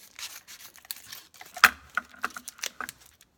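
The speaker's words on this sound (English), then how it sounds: "And then I'm going to start slicing." Knife slicing through soft goat cheese on a cutting board for a goat cheese and crispy prosciutto salad, a series of close, soft ticks and taps in an irregular rhythm with no talk.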